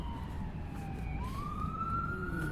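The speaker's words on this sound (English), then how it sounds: "emergency vehicle coming up there with lights flashing" A Emergency Health Service vehicle's wailing siren sweeps up and down on a downtown street walk toward Quinpool Road, loud and continuous over low traffic rumble.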